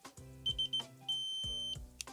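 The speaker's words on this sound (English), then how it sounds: "you see when it beeps, that means that you're almost there" A digital torque wrench beeps while a red dot sight screw is tightened, giving three short high beeps followed by one long sustained tone, close and clear, mixed with faint clicks and handling noise.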